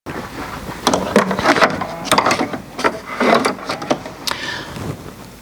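A sewing machine runs tack-down stitches on fabric for a cupcake stuffie, producing quick mechanical chattering bursts with pauses between runs, fairly close and moderately loud.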